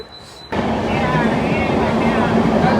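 After a quiet start, a loud, steady rumble of a train stopping at Karjat sets in and holds, a dense mechanical roar with a faint high whine.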